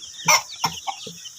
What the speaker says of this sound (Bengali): চার মাস বয়সের ফার্মি মুরগি